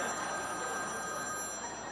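A telephone rings steadily in a busy home setting, a continuous bright electronic tone held at even loudness with no talk over it.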